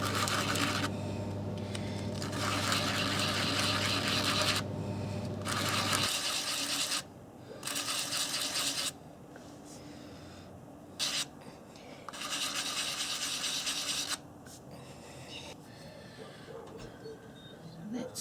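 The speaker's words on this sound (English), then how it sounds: "It's now sanded." A wooden baton handle is hand sanded with tissue-padded sandpaper, giving close, scratchy rasping in bursts with short pauses between strokes, alongside a steady machine hum early on.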